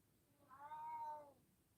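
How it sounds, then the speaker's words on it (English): A cat gives a single drawn-out, wavering meow of about three-quarters of a second, close and moderately loud, alone against a quiet room. "The cat's meowing."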